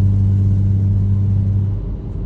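Exhaust drone from a BMW 435i driving with its exhaust valve closed: a loud, steady low droning hum that holds evenly, then drops away near the end as engine rumble continues alone.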